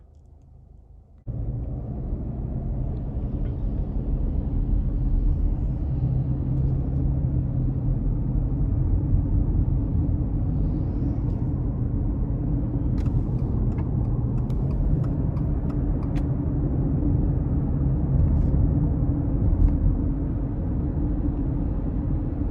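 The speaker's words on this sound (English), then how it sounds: "take the Outback out on the road for a test drive" A 2021 Subaru Outback with the base 2.5 engine and CVT cruises on the road, giving a steady low rumble of engine and road noise heard from inside the cabin, with a few faint clicks toward the end.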